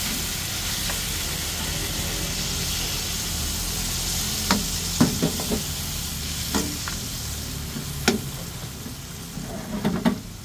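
Chicken adobo sizzles and bubbles steadily in a pan, joined by scattered scrapes, knocks and clinks from stirring that grow more frequent toward the end.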